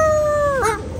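A voice imitates a small puppy's high, drawn-out whine, one wavering cry that slides down and breaks off near the end, heard alone and close.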